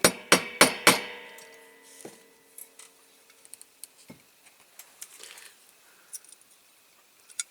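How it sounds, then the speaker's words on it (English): A tiny hammer taps on a Dinky Toys Johnston road sweeper model during restoration: four sharp, close metallic strikes in quick succession, then scattered lighter taps and small clicks, with no talking. "Maybe a little tiny hammer here."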